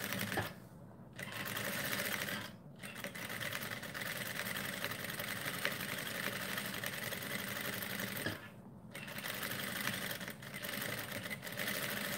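A sewing machine stitches a quilting-style seam on a fabric bucket hat, running in a steady, close mechanical whir. It pauses briefly three times, then starts again.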